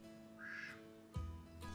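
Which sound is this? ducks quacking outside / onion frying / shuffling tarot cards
ducks quacking outside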